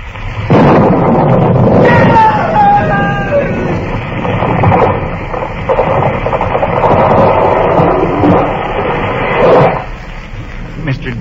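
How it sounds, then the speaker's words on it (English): In a Gunsmoke radio drama, a sound effect of lightning striking a tree opens with a loud, sharp crack and then settles into a long rolling rumble that fades toward the end. "It was lightning. It struck the tree."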